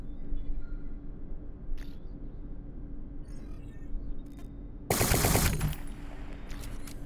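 Video-game gunfire from an indie shooter demo: a dense burst of rapid shots midway, set against a steady low game ambience with a few faint earlier clicks.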